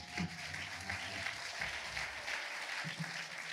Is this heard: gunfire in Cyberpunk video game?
no